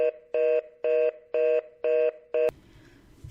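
A telephone gives six evenly spaced loud beeps after a call is hung up, each tone lasting about a quarter second, then it cuts to a faint hiss.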